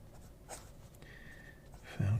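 A broad-nib fountain pen writes on paper with dry ink, making soft, close, brief scratching strokes that end in a louder scrape at the finish.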